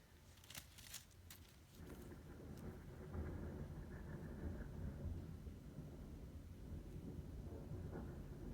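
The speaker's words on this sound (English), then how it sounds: "Rolling Thunder." Low rolling thunder rumbles on through a quiet afternoon, a faint, sustained deep roar, preceded by a few small clinking handling sounds of plastic and jewelry pieces.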